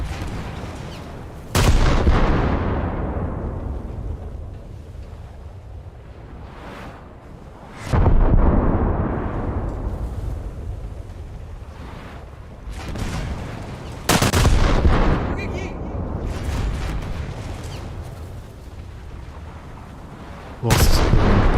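Heavy naval guns fire in a warship battle game. Four deep, loud blasts come several seconds apart, each rolling off in a long rumbling decay over a steady low battle drone.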